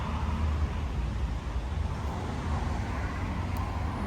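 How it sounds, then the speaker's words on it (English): Steady, dense roar of busy road traffic beside a nature reserve, constant and fairly loud throughout with no pauses, vehicles blending into a continuous wash of noise. "Sorry about the noise, but we are next to a busy road"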